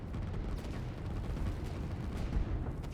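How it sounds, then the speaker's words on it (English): Heavy artillery fire from a big dug-in battle in the strategy game Line War, a dense continuous barrage of low booms and rumbling blasts with no clear gaps, loud and sustained throughout. "This is a lot of artillery."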